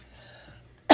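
A single sharp cough bursts out near the end after a stretch of near silence.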